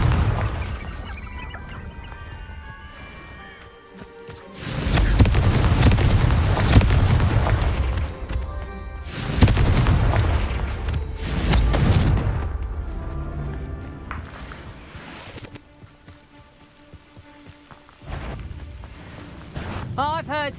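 Confringo blasting spell explosions in Hogwarts Legacy, several heavy booming blasts with roaring crashes and rumbling tails separated by quieter stretches, with in-game voices and effects also present.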